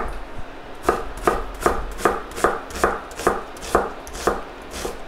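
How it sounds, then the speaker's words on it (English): A knife chops onions fairly small on a cutting board, ten or so sharp knocks in a steady rhythm, loud and close with no talking. "I'm just gonna chop the onions fairly small"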